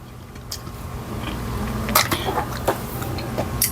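A few short, sharp coughs spaced out over steady low background noise, fairly close, with no talking.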